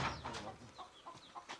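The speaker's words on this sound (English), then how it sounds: "A chicken farm in Kigarama." Chickens cluck in short, repeated calls at a poultry farm in Kigarama, Rwanda, with several birds close by over a steady barnyard background.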